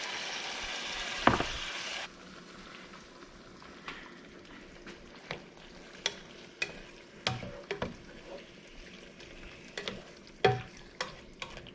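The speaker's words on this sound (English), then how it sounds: "And then the rest of the soy sauce, you'll just pour it in." Squid adobo cooks in a pan while soy sauce is poured in, giving a steady close sizzle dotted with sharp ticks and pops and occasional scrapes, with no talk over it.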